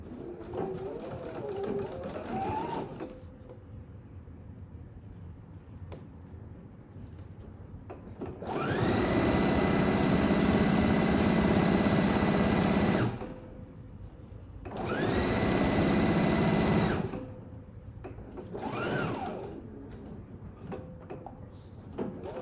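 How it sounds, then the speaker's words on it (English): A sewing machine stitches a quarter-inch seam on a diagonal box pouch in two long steady motor runs, each several seconds, loud and close, with quieter handling pauses between and no talk. "And sew it at 1/4 inch."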